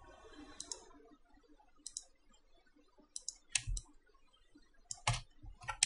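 Computer mouse clicking while working in Photoshop: sharp, close clicks in small clusters, spaced a second or so apart over quiet room tone, with no talk.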